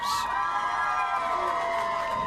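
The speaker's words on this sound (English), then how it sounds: "Loud crowd." A packed bowling alley crowd cheers at a girls' state championship final at a Lincoln lanes venue. Continuous loud shouting and high whoops sound close and sustained, with no break for the whole moment.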